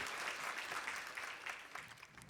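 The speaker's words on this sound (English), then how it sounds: "If you guys can give them a round of applause." An audience applauds a panel at a workforce talent session, a dense wash of many hands clapping at once, steady and somewhat distant, with no talk over it.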